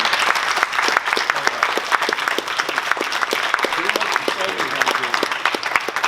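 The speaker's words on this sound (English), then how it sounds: "give these guys another round of applause for being out on their own time" An audience at a homeowners association meeting gives a round of applause, sustained crisp clapping from a room of people, fairly loud and near, with some voices audible beneath.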